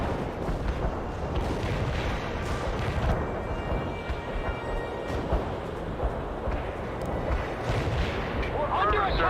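Artillery fires during a battle in the video game World in Conflict: repeated heavy booms and gunfire blasts over a dense, continuous rumble, with radio voices talking among the explosions.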